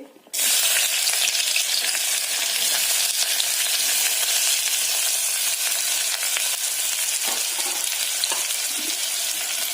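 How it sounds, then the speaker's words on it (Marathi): Finely chopped onion hits hot oil and bursts into a loud, steady, close sizzle that holds for several seconds. "तेल पण आता आपलं गरम झालंय बऱ्यापैकी, तर आता त्याच्यामध्ये मी बारीक चिरलेला कांदा टाकते।"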